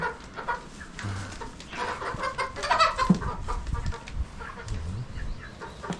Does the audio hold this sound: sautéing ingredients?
no